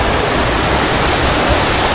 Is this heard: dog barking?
no